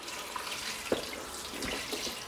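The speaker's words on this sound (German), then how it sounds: "Und den gießen wir da jetzt drüber." Cooled brine with onions poured from a pot over fried herrings packed in a container, a soft liquid splashing and trickling, fairly quiet and without speech.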